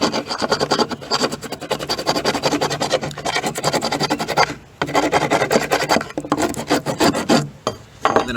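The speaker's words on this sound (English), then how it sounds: "Personally, I just hit them with the rasp a little until they're cut down." Steel rasp filing down the edges of a rattan practice sword, a loud, continuous, rough scraping in rapid back-and-forth strokes with a few brief pauses.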